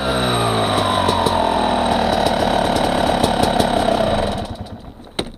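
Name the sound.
engine throttle response with SmartCarb SC2 carburetor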